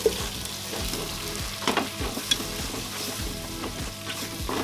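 Ginger garlic paste sizzles and fries in a pan for crab biryani, with a steady close crackle and occasional stirring scrapes throughout.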